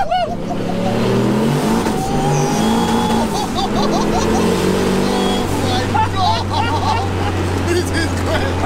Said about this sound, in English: It's real like gutsy power. Like you've got to rev it right up.